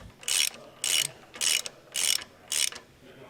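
A ratchet tightens bolts on a base plate under a 2016 Winnebago Spirit motorhome, heard as five short, evenly spaced bursts of close clicking over a quiet background.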